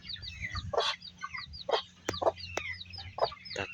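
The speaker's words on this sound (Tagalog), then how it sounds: "Alagang chicken, native chicken." Native chickens kept as backyard poultry cluck and squawk in repeated short bursts, fairly close and loud against a quiet background, with several overlapping calls.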